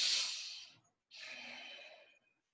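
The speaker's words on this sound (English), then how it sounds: "You can even make a little noise through your nose when you're breathing." Two soft, breathy exhales through the nose, each about a second long, separated by a short pause, close and quiet with no talking.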